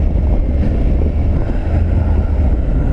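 Steady, loud wind roar and low engine drone from a 2022 Triumph Tiger 900 Rally Pro motorcycle riding on the highway with its windscreen raised, continuous with no letup.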